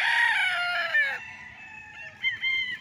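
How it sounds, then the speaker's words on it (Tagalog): Farm chickens on a rural lot in Liliw, Laguna, clucking while a rooster crows loudly and close by, its call stretching across the first second before softer clucks and calls continue. "At ang daming alagang manok."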